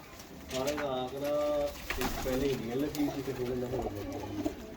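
A black pigeon kept in a breeder's loft coos in low, throaty bursts close by, while someone talks over the calls.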